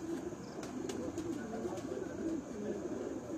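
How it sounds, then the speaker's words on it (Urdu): A male pigeon coos in a steady repeated low rhythm, close and clear over a faint background hum, with no talking. "یہ بھی ماشاء اللہ جی کبوتر ہے جی نار ماشاء اللہ جی"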